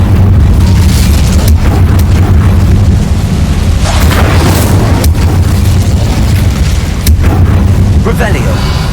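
Incendio fire spell cast in Hogwarts Legacy, a loud bursting, booming whoosh of flame with sharp repeated blasts over a steady game soundtrack, a voice calling out among the effects.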